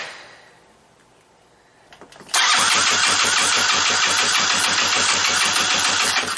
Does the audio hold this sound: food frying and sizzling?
no